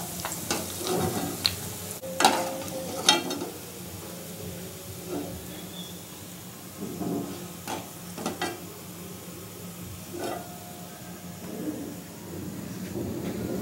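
Ananda naru sweets deep-fry in hot oil with a low, steady sizzle, broken by scattered sharp clinks and scrapes of stirring that come and go at irregular intervals.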